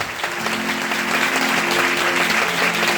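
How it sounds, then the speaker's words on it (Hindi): Church congregation at a Holy Spirit festival service claps loudly and steadily in a dense, close burst of applause, with a faint voice underneath. "जोरदार ताली बजाओ अगर हो तो"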